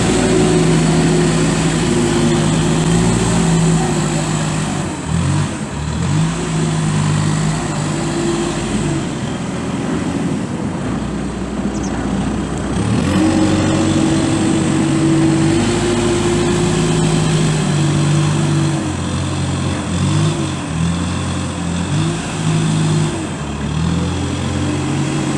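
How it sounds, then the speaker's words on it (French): A farm tractor drives over piled silage grass to pack it down with its tires, a loud, steady diesel engine drone that rises and falls with the load, heard close and without pause. "il va les tasser avec les pneus de son tracteur."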